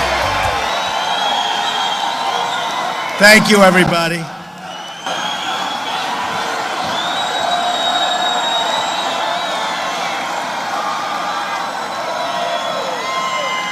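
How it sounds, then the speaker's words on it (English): A large rally crowd in Tampa, Florida, keeps up a continuous roar of cheering, with a sharp close burst early on as a man thanks everyone over the noise. "What a crowd, beautiful."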